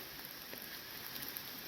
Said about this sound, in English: The rain is still falling, but sometimes it's heavier than others.